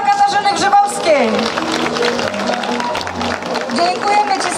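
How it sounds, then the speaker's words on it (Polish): Crowd applause and cheering at an outdoor forest queen parade festival in Barlinek, mixed with music and a loud voice over a sound system, with the clapping steady under the amplified talk. "Brawa dla Katarzyny Grzybowskiej!"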